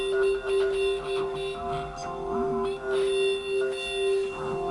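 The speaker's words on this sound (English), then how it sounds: "the pitch ring mod in stereo sounds like this." A guitar runs through a Line 6 Helix pitch ring modulator effect in stereo, producing a steady, strong tone under warbling, metallic, chirping overtones that pulse and swell unevenly.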